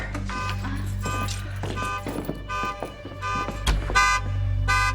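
A car alarm set off by a break-in blares in a repeating cycle of honks and electronic tones, loud and steady over a low engine-like rumble.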